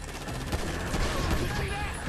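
A quick burst of rapid gunfire rattles in Grand Theft Auto V, dense and loud over a couple of seconds, with game noise and voices faintly mixed in.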